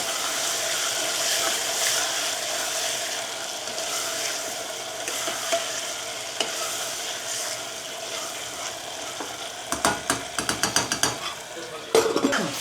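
Peanuts cook in hot oil with a constant close sizzle and bubbling, joined near the end by quick clattering taps of a utensil stirring against the pan.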